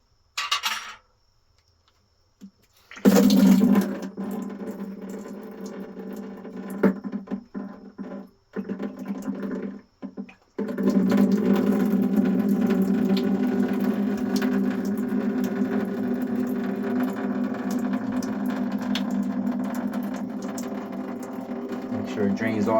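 Water drains out of a loosened sediment filter housing: a few scattered clanks and handling noises come first, then a continuous close rushing flow sets in and carries on to the end, with some talk around it.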